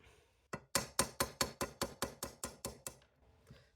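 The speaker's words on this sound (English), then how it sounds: "So I'm just going to keep hammering." Hammer blows on steel while making splint armguards, about eleven sharp ringing metallic strikes in an even rhythm, close and loud, with a pause before one final tap.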